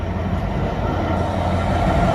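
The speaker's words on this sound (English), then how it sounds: "Right, we do have a freight train coming down." A GBRF Class 66 diesel freight train, a Drax working, rumbles past close by in Greater Manchester, giving a loud, steady roar of wagons and engine through the short stretch.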